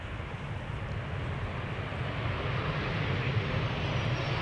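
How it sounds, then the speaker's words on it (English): A KLM passenger jet arriving at Amsterdam Schiphol from Paris produces a continuous distant engine roar with a low rumble, gradually building in loudness throughout. "This is KLM flight 1406, arriving from Paris."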